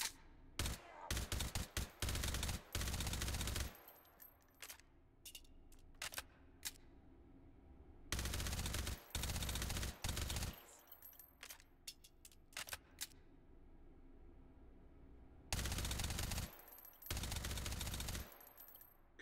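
Loud bursts of automatic gunfire in the VR shooter Hot Dogs, Horseshoes & Hand Grenades, played on an HTC Vive. Long sustained volleys alternate with short single shots and brief pauses, and the shots sound close and sharp.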